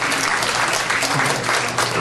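Sustained applause from an event audience for the chairman at an eightieth-birthday book launch, dense and steady clapping with no voices over it throughout.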